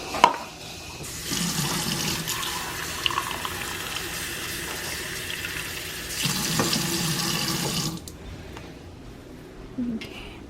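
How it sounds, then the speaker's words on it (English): Tap water runs into a pot of beans during batch cooking, a steady rushing stream that starts about a second in, flows for roughly seven seconds, and then cuts off, followed by a light clink. "I think I'm going to add some more water now."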